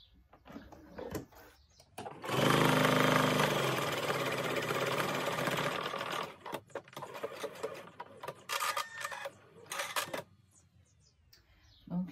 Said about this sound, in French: Et on passe à la couture